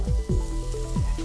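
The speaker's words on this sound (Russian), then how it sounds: "А пока овощи обжариваются" Vegetables sizzle steadily in a hot pan, with a few soft knocks from stirring.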